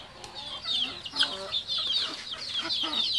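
Newly hatched chicks and hens being fed broken rice: a steady stream of high, thin peeping runs throughout, with a few nearer low clucks breaking in around the middle, and no voices.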